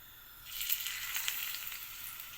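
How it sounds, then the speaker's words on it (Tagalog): Soft, steady sizzling of ripe bananas frying in hot oil, with faint crackles rising after a quiet start. "Prito pa more. Nahinog na saging."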